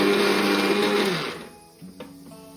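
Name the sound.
mixer grinder spinning ingredients for an oil-free pickle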